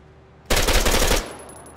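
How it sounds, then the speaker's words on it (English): Automatic gunfire in the video game Arma 3, a single rapid burst of about three-quarters of a second, loud and close, with a short fading tail. "The one I shot the gunner off of?"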